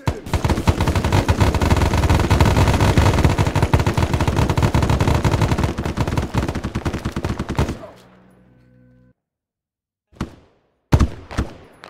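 Heavy sustained gunfire from a military video game, dense automatic bursts hammering loud and close for about eight seconds, then cutting off into a low hum, followed by a few isolated sharp shots.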